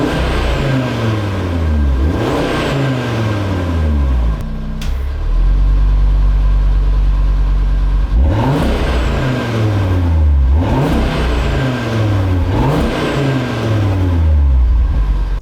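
Factory exhaust on an Audi RS3 with its valves closed, revved repeatedly: loud engine notes climb and fall in several rising sweeps, with a steady idle drone in between and no talking.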